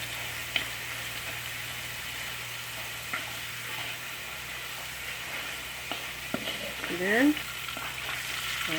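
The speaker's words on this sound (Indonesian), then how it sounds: "goreng deh sampai garing." Egg noodles fry in hot oil until crispy for Tuaran noodles, a soft steady sizzle with occasional stirring scrapes and clinks, a brief louder scraping of the pan near the end, and a low hum underneath.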